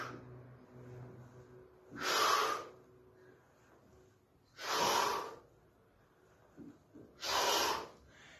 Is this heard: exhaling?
yes